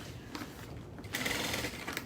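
Sewing machine stitching through a strap on a sewing project, a steady mechanical whir that surges louder in the second half with fast rhythmic needle clatter, close up and alone.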